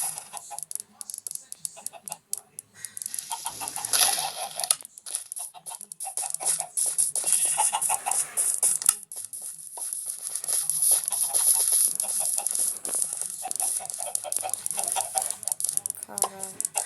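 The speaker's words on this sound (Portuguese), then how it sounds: "É galinha demais." A large flock of chickens clucks in busy, overlapping calls at close range, a dense and continuous chatter that runs the whole time without pause.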